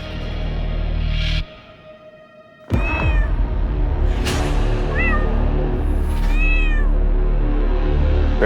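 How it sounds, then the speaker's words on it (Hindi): Mimi, a pet cat, lets out several clear, close meows with rising and falling pitch, spaced over a few seconds above a steady background hum. "बिल्ली पाल रखी है आपने तो"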